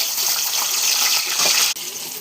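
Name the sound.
water squeezed out of fried onion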